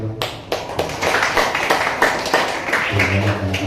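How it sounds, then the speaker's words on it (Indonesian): An audience claps at a church gathering in a burst of sharp, uneven claps that runs the whole time, fairly close and loud, with a faint voice mixed in near the end. "kasih tepuk tangan"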